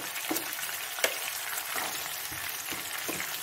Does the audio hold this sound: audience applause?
no